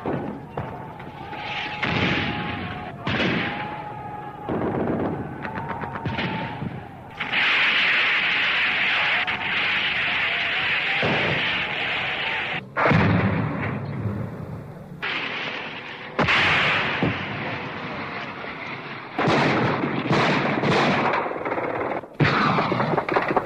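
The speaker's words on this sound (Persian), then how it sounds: "این شلیک گلوله و توپ" Gunfire and artillery rumble on an Iran-Iraq war battlefield west of the Karkheh river near Dezful and Shush, with repeated bursts and heavy booms coming in waves, loud and close, separated by brief lulls, no talk.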